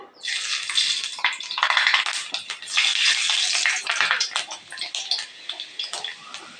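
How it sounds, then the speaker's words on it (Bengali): Panch phoron spices hit hot oil and crackle in a dense, bright, continuous sizzle, close up and fairly loud, with bursts of spitting throughout. "তেলটা গরম হয়ে গেছে দিয়ে দিচ্ছি একটু পাঁচফোড়ন"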